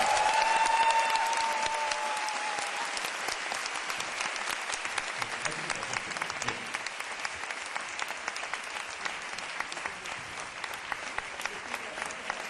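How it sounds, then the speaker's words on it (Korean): A crowd at a talk-concert on prosecutorial reform in 2011 breaks into steady, dense applause, fairly distant and even, continuing without letup, with a brief whistle-like tone at the start. "이 네 분에게 큰 박수 부탁드립니다"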